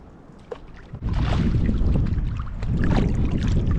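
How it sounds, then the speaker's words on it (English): Low, rumbling wind buffets the microphone while water swishes and gurgles faintly from a canoe paddle stroke on Loch Awe, Scotland, no talking. "We'll go out for a quick paddle now."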